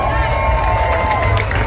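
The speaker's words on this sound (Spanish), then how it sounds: "Un aplauso a mi gente de Monción." A crowd at an outdoor patron-saint festival concert roars in a dense, steady wall of cheering and applause, loud and close for a brief moment.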